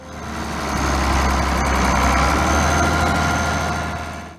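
Steady diesel engine of an International Harvester 1066 tractor running continuously, a deep low rumble with a constant idle throb, close and loud, swelling in and fading slightly at the end with no voices.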